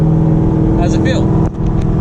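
Corvette Z06 exhaust running close by as a deep, steady engine drone, with a person talking briefly over it near the middle.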